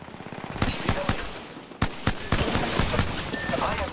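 Rapid bursts of automatic gunfire in the video game Apex Legends, loud and close, with sharp individual shots cracking over a dense stream of fire and faint game chatter underneath.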